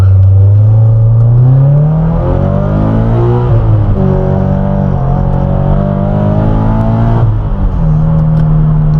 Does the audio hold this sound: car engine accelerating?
yes